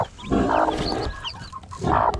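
Chickens and junglefowl clucking and squawking close by, with several bursts of fowl calls rising over a quiet farmyard.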